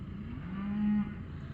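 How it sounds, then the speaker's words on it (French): Limousin cattle outside on a foggy farm, with a single low, drawn-out moo heard fairly close against a steady outdoor background hum. "Les vaches limousines sont dehors."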